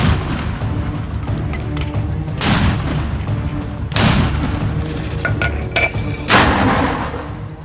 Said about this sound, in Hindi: अबू अली मुस्तफा ब्रिगेड ने अल कुद्स ब्रिगेड के साथ मिलकर इजरायली जवानों पर 60 mm मोटर गोलों से बमबारी की है।